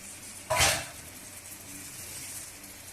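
Chicken being stirred in a pot for biryani: one sharp metallic scrape of a ladle against the pot, then a soft ongoing sizzle, close by and with no talking.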